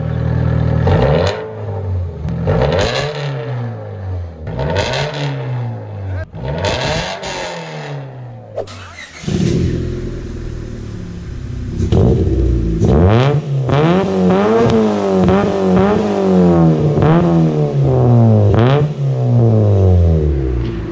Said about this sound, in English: what some cars sound like with just muffler deletes only